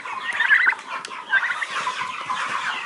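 Farm turkeys crowding close to the camera gobble and cluck in a busy, overlapping chorus, loud and near, with no talk.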